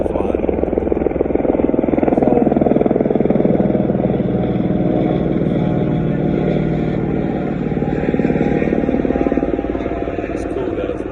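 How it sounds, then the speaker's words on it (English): Helicopter flying and coming in to land, a loud, steady roar of rotor and engine that stays constant and close for the whole stretch. "Helicopter flying."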